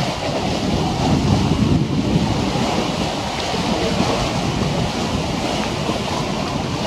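Strong wind buffeting an outdoor camera microphone on a blustery December day, a steady loud rumbling roar with gusting swells throughout and no voices.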